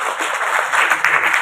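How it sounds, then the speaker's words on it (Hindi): Audience clapping at an Ambedkar birth anniversary award ceremony, a brief steady round of applause from a gathered crowd. "इसलिए एक बार ताली बजा करके आपका स्वागत है।"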